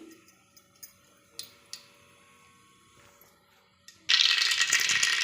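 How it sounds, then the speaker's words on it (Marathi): Mustard and cumin seeds in a generous amount of hot oil in a pressure cooker: sparse faint ticks and pops at first, then a sudden loud, dense crackling splutter that carries on to the end. "मोहरी तडतडली का"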